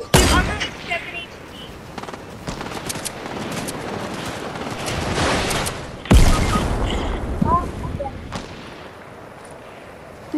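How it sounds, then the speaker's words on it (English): Gunfire crackles through a multiplayer shooter match in repeated bursts of shots, with louder cracks near six and eight seconds and voices talking over the action. "He's shooting."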